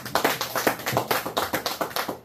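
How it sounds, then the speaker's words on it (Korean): Audience at a Korean church men's fellowship retreat clapping in a steady, even rhythm, about a dozen sharp hand claps in a row, close and fairly loud with no talk over them. "공감하시면 박수 한번 주세요."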